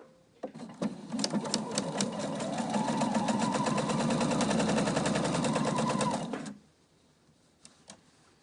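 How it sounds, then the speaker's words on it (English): Sewing machine stitching the lining and top piece of a fabric face covering together, running in a steady rapid chatter for about six seconds after a few short starts, then stopping to near quiet with faint clicks. "So I'm sewing the lining and the top piece together."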